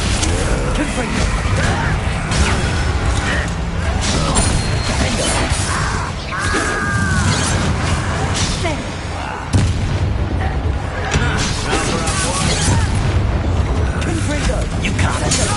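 Confringo blasting curses explode in Hogwarts Legacy, loud repeated booming blasts and crashes filling the scene amid constant combat noise, with voices shouting spell names over the top.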